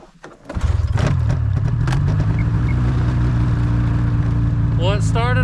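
A small pull-start engine on an ice fishing outing catches after a quiet pull, then settles into a steady, close, buzzing idle; a voice speaks briefly near the end.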